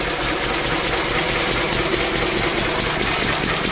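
An old pre-electronic engine runs steadily at close range, a dense continuous mechanical drone with a fine rapid clatter, loud and unbroken throughout with no voices.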